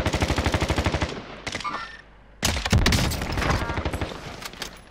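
Rapid automatic gunfire rattles in a video game shooter where Kar98k rifles are in play, with dense bursts of shots, a brief lull, then heavier volleys and booms, loud and close.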